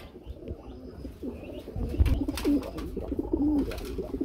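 Several Lahori pigeons coo in repeated throaty phrases at a pigeon seller's, fairly close and moderately loud, with some light bird chirps and faint flutter in the background.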